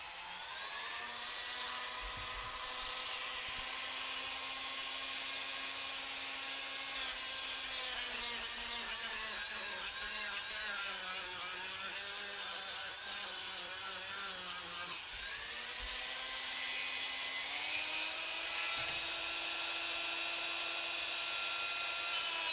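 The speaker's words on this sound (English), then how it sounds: "Dremel noises again" Dremel rotary tool grinding an axe, a sustained high-pitched whine with a gritty grinding edge that wavers in pitch as the bit loads and frees, steady and continuous throughout, with no talk.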